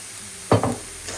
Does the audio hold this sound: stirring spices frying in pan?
yes